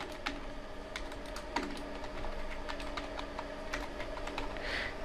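Close, steady clicking of a computer keyboard entering data into an MS Access datasheet, irregular keystrokes at a moderate pace with an occasional heavier key press, no voice.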